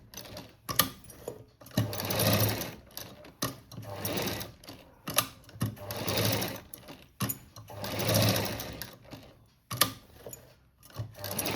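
A sewing machine stitches around a cut-work blouse neck in repeated runs of steady rapid mechanical clatter, pausing briefly between runs as the fabric is turned, close and clear with no talking.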